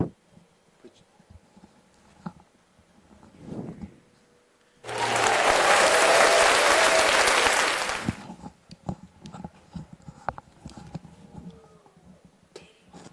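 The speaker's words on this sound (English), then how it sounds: "A little round of applause for the base on balls" Crowd applause at a high school baseball game after a walk, a loud, dense burst lasting about three seconds, set between quieter stretches of scattered background noise.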